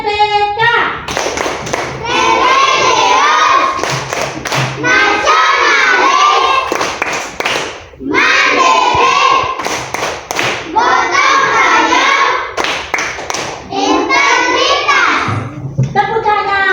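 Children clap out the rhythmic 'Tepuk PPK' chant in a classroom, bursts of patterned hand claps and chanted young voices alternating loudly over about seventeen seconds, with brief pauses between phrases.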